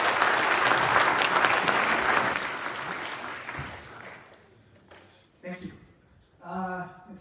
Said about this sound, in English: Please give a big round of applause for Bert Zwart